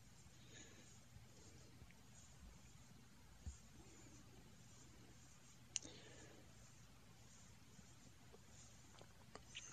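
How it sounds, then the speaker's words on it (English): A few faint, isolated clicks on a screen during an online Go game, spaced seconds apart over a quiet, low hum. "That's me just clicking the screen."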